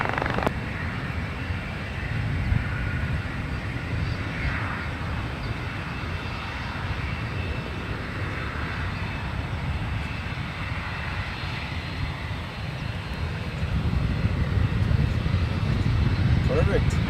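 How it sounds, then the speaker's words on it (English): A Delta heavy jet departs San Francisco airport, its deep engine roar rumbling steadily and swelling louder near the end, with talk over it. "Delta 316 heavy, kind of northbound departure there"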